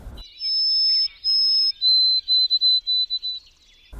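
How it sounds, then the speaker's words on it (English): A white-throated sparrow sings clear, pure whistled notes: two long steady tones, then a higher held note breaking into a rapid series of short repeated whistles, close and alone against silence. "when some people hear the white-throated sparrow, they hear, "Oh, sweet Canada,"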